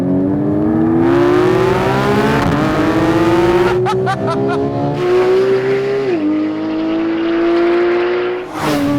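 A Porsche 911 GT3 engine revs high and accelerates hard through the gears, its rising pitch climbing steadily with brief dips at each shift, loud and close, with a short burst of tyre noise midway.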